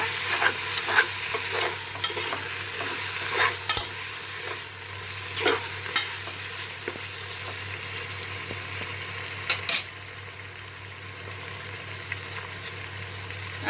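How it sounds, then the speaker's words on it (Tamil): Onion masala with mint, coriander and tomato sautéing in a pan for mutton biryani over low heat, a steady close sizzle with frequent scraping and stirring clatters of a spoon against the vessel throughout. "தீயை குறைச்சி வச்சே வதக்குங்க"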